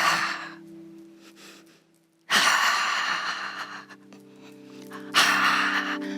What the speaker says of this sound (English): We could also use the ha breath that's associated with the heart